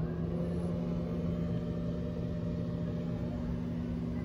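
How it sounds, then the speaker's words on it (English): A microwave oven heats food with a steady, low mechanical hum and rumble. The sound is continuous and fairly quiet, with no talking. "put it into the microwave, close her up, and we're gonna go for 3 minutes"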